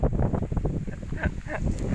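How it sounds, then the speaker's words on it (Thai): Strong gusting wind buffets the microphone outdoors at a radio-controlled AH-1 Cobra model helicopter display, a constant loud low rumble with no clear gaps throughout. "โอ้ลมแรงมากเลย"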